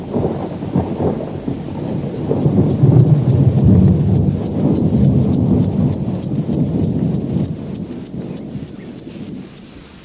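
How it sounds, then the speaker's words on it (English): A thunderstorm in the wild during the season of sudden, powerful storms: deep rolling thunder swells and rumbles under steady rain and scattered raindrops, loud and continuous for about ten seconds. "The day has become threatening in this season of sudden and powerful storms."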